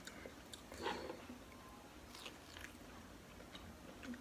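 Beef rib meatballs (bakso) being chewed close to the mic at a mukbang, giving soft wet biting and mastication sounds over a steady low background, with no talk.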